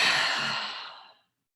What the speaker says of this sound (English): And now let's exhale through our throat.